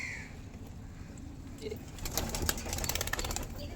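Pigeons cooing in a low, soft murmur, with flutters and scattered clatter building toward the end; a faint voice may be underneath.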